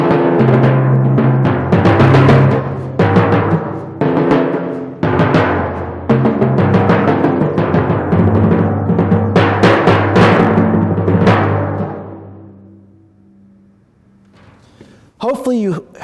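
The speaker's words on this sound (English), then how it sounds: "we have some accented fortes and some fortissimos, and that can be a little bit bigger and sound like this." Timpani played with accented fortissimos, a series of heavy booming strokes with strong attacks over the first twelve seconds, then ringing off into quiet with a short sweeping tone at the end.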